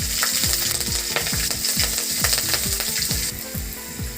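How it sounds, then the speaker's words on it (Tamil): Green chillies cut lengthwise into four frying in hot oil with popped mustard seeds, a steady close sizzle throughout with a regular series of low scraping, clicking stirs about every half second; no voices. "கடுகு நல்லா பொரிஞ்சதும் பச்சை மிளகாய் ஒரு 4 நீல வாக்கில் கட் பண்ணி சேர்த்துருக்கேங்க"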